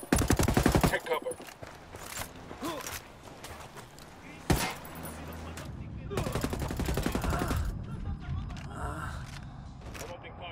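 Gunfire in the video game Ghost Recon Wildlands: loud rapid automatic bursts crackle in clusters, with a sharp single shot midway and a long sustained volley later, mixed with game effects and voices.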